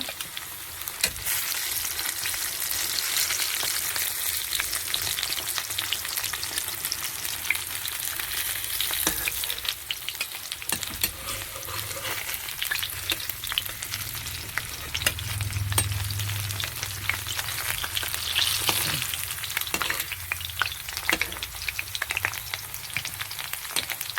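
Potatoes fry in hot oil in a pan, producing a loud, continuous close sizzle with crackling spits and occasional stirring scrapes throughout, without any talking.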